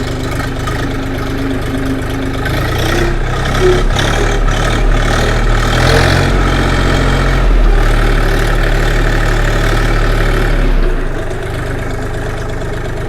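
Forte XT244 three-cylinder tractor engine pulling away in first gear, a loud, close, steady low diesel drone that rises slightly in effort midway before settling back.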